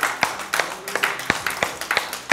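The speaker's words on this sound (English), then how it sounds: "Give Him a big hand clap this morning" Church congregation clapping in a steady, fairly sparse rhythm, a few distinct hand claps per second, moderately close in a quiet room.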